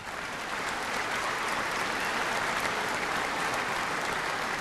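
Graduation ceremony crowd giving a round of applause for employees, a dense, steady roar of many hands clapping at once, sustained and even without pauses.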